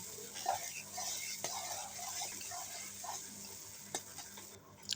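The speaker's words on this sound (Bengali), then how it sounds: "নাড়াচাড়া করব, মশলাটা কষাতে হবে।" Spice masala for chicken do piazza being stirred and fried in a pan, a steady close sizzle with scraping spoon strokes against the metal, a few sharper clinks near the end, no talking.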